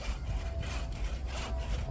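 A hand saw cuts firewood from a dead standing tree outdoors, producing a steady, close rasping rhythm of repeated push-and-pull strokes, loud and continuous with no talk.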